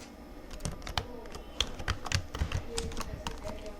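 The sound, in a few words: typing on a computer keyboard in Edius titler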